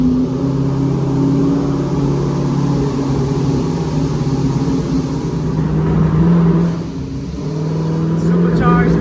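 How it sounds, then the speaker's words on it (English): A supercharged Corvette C5 runs on a dyno, a loud, steady engine drone with a deep rumble that swells and dips slightly, with people talking over it. "he has a C5 on the dyno right now"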